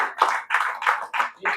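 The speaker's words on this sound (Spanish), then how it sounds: "Démosle un aplauso al Señor, por favor." A church congregation applauds together in a series of loud, pulsing bursts of clapping, close and filling the room.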